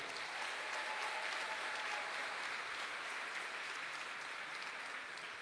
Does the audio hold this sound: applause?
yes